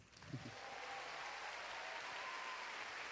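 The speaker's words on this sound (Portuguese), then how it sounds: "Dê um aplauso pelas mulheres." A church audience applauding for the women, a steady wash of many hands clapping at moderate distance, holding evenly throughout after a brief voice at the start.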